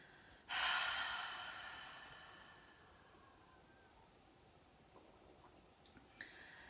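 A single deep exhale during a yoga breathing exercise, a loud breathy rush that starts abruptly and fades slowly over several seconds, close and alone, with a faint breath near the end.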